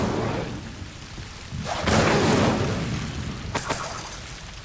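Incendio fire spell cast in the Hogwarts Legacy video game, a whooshing burst of flame that swells loudly and then crackles away, followed by a bright sparkling crackle.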